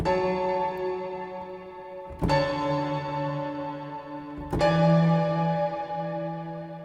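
Three struck piano chords, each ringing out and slowly decaying before the next, spaced about two seconds apart, clear and fairly close with no talking.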